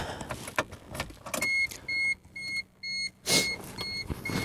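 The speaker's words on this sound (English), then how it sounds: "All I'm gonna do is turn on the key." Ignition key turned on in a 1989 Toyota Corolla AE92 on a freezing day, giving a rustle and click followed by a series of repeated electronic chimes or beeps, close and fairly quiet.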